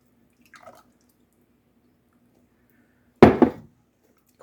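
Italian salad dressing poured from a brand-new bottle into a dish: one short, fairly loud liquid glug and splash after a faint earlier trickle, otherwise quiet.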